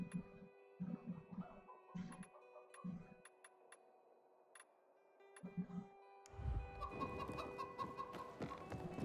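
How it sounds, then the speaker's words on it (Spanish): Chicken clucking in the video game Dying Light 2: a series of short, rhythmic clucks at moderate distance, pausing for a couple of seconds, then resuming amid busier game ambience and faint electronic tones. "Una gallina de arriba."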